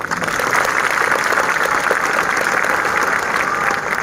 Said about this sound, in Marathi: या गाडगडी साहेबांसाठी टाळ्या वाजवा.